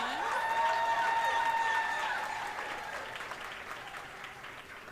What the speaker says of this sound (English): can we give our fantastic MC another round of applause?